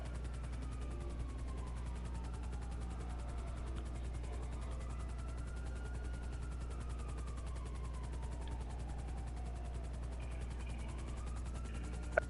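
Steady droning rotor and engine noise of a helicopter in a PS4 video game, holding constant while a faint tone rises and falls, with no talking.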